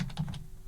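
Computer keyboard typed in a quick close burst of about half a dozen crisp key clicks, with a short pause before a final tap, heard alone.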